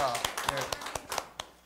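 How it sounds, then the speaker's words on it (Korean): Several sharp, scattered hand claps ring out at a church coaching gathering, close and fairly loud, with a voice talking over them. "박수로 차세대를 격려하겠습니다"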